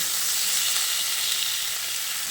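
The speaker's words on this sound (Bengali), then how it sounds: "টমেটো কুচিটাকে দিয়ে আলুর সঙ্গে নেড়ে চেড়ে মিশিয়ে নিলাম।" Chopped tomato frying with potatoes in a pan makes a steady, close sizzle throughout, with faint stirring beneath and no talk.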